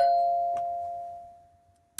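A doorbell sound effect for 101 Dalmatians: a single sustained bell tone ringing out and slowly decaying, a faint click partway through, then a sharp knock-like hit at the very end.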